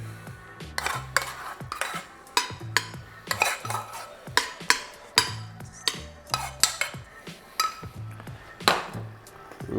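Metal spoon scrapes and clinks in a pan as rice is stirred into a green chicken curry, with sharp irregular knocks and rattles repeating close up in an uneven rhythm.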